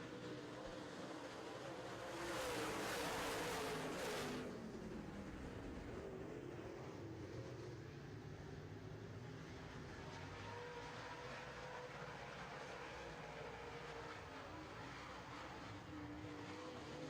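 Late model race cars roar around a racetrack during a heat race, a steady distant engine drone that swells briefly as cars pass nearby, then settles into a continuous hum.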